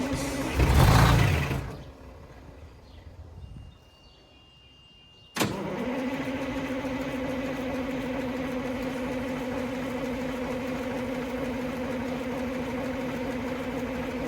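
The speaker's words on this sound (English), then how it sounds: "me starting the engine for the first time with the fuel tank reinstalled" A car engine turns over and catches for the first time after its fuel tank was reinstalled. A short noisy burst and a quiet pause lead to a sharp start, then a steady, droning idle that runs on close by.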